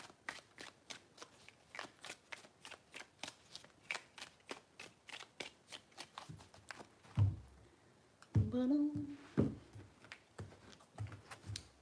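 Rapid, crisp riffling of a tarot card deck being shuffled repeatedly, with a brief pause and rustle before the shuffling resumes.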